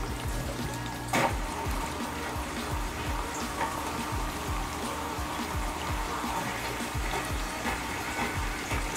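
AquaClear 50/70/110 filter converted into a surface skimmer, sucking aquarium surface water with oily scum: a steady trickling, gurgling flow with faint bubbling and one brief sharp splash early on, fairly quiet.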